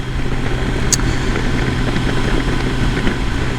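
A 2021 Kawasaki Versys 1000 SE motorcycle's 1000 cc engine runs at a steady, even idle, a continuous low rumble held close and constant throughout.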